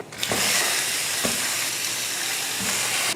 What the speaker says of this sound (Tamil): அதில் சிக்கன் சேர்த்துடலாம்